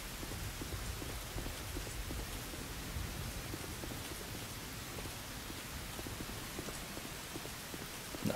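Steady, even rain hisses throughout in the video game Dark Souls 2, a constant wash of falling water with faint scattered drops and no voices.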